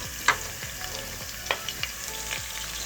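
Turkish dry bean dish base sautéing in a pan with tomato paste: steady close sizzle with a few sharp utensil scrapes and clinks against the pan, no voices.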